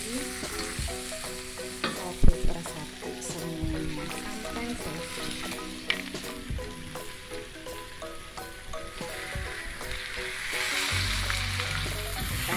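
Red snapper heads frying in a dry, fiery spice paste for a spicy gulai, with continuous sizzling, scraping stirs and spoon knocks against the pan, while a louder hiss swells near the end.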